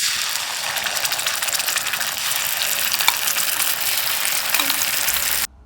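Paste of tomato, dried red chili and garlic cooking in hot oil in a pan, a loud continuous sizzle close up, steady for several seconds before cutting off abruptly.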